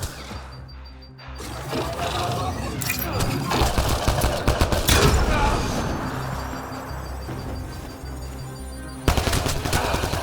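Sustained heavy gunfire in the video game Mass Effect Andromeda, dense automatic bursts and blasts over a rumbling combat mix, with shouted squad voices in the game.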